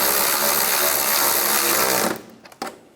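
A power tool tightens the bolts on the air deflector of a 1996-2002 Toyota 4Runner, running as a loud, steady whir for about two seconds before cutting off, followed by a couple of brief knocks.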